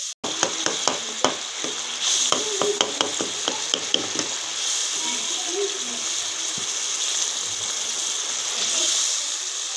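A pan of green peas and egg curry sizzles hard after water is added, with a quick series of sharp clicks and scrapes from stirring at first, then a loud, steady hiss and bubble.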